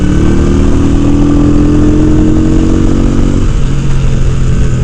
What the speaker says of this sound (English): My sport bike nature has taken over, and I'm revving it up really high.